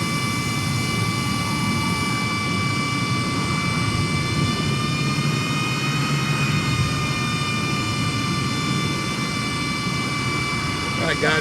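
Jet aircraft engines in a flight simulator game roar steadily and loudly throughout, a continuous broadband rumble with sustained high whine tones and no break.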